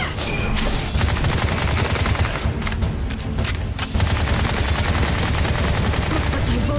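Sustained automatic gunfire from a video game rattles in a dense, loud, continuous stream for several seconds. A few heavier bursts break through near the middle, and there is no talking over it.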